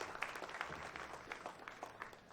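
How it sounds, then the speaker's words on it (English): Soft applause from the audience at a professional pool match, a faint steady patter of many hands clapping throughout with no voices. "Nice round of applause."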